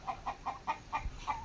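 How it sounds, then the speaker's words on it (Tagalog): Backyard chickens kept alongside Muscovy ducks, giving a rapid series of about six soft, evenly spaced clucks at close range, quiet and without speech. "Sa dami ng pato ng aking tatay. Sama na yung mga manok."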